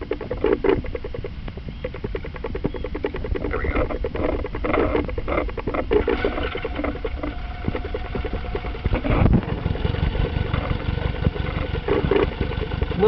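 A cold 1981 Honda Goldwing cafe motorcycle engine idles steadily at about 950 rpm with a slightly rough, even rumble throughout, close and fairly loud.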